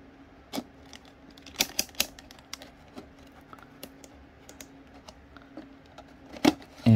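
A knife slices open the packaging of an Intel 14th-generation 14600K CPU box, making sparse sharp clicks and ticks of blade on cardboard and plastic, close and quiet, with a louder snap at the end.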